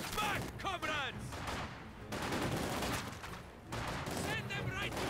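Gunfire in the Company of Heroes 2 video game crackles in dense, continuous volleys and bursts, loud and close, while game voices shout over the battle.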